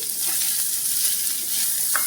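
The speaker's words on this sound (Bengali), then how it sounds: "আর এদিকে নারকেলটা ভাজছি।" Grated coconut frying in a pan, a continuous bright sizzle with faint scraping from stirring, steady and close, no talking.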